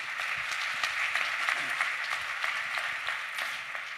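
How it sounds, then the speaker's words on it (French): Audience at an evening event applauds a guest, a sustained, even round of many hands clapping that fills the room at moderate volume for several seconds. "oui, on peut l'applaudir évidemment"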